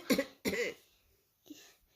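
A person imitates coughing: two quick rough coughs close together, then a softer third after a short pause.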